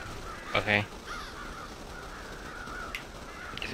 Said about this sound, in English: Still a lot of damn crows,